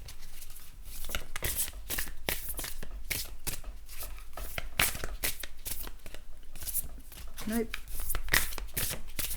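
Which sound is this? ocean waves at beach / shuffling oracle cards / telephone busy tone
shuffling oracle cards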